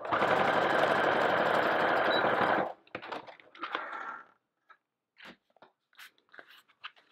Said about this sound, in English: you're just stitching along that edge